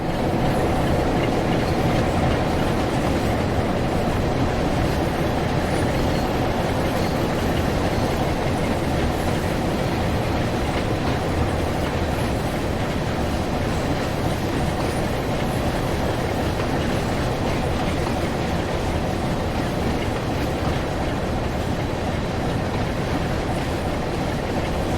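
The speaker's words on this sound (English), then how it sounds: "47363 Billingham Enterprise heads through with a tanker train." A tanker train passes through in a train simulator, hauled by a Class 47 diesel, with a continuous loud rumble and wheel noise that stays steady throughout, heard alone and without voices.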